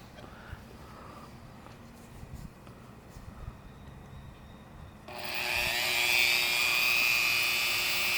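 Grinding a bevel on the chipped edge of Pyrex glass, a steady high whine that starts abruptly partway through and holds loud and continuous after a quieter, low-rumbling stretch.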